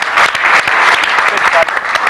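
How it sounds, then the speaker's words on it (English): An audience applauds a medallist at the 1995 Jimmy Rooney Medal presentation, a steady, dense round of clapping that fills the whole moment at close range with a little crowd murmur. "And what a bit of a round of applause for him too"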